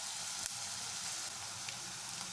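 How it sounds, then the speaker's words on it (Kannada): Asafoetida and onion sizzle in hot oil for an oggarane tempering, a steady, soft, crackling hiss that continues evenly without pause. "ಇದು ಒಗ್ಗರಣೆ ಆಗ್ತಾಯಿದೆ."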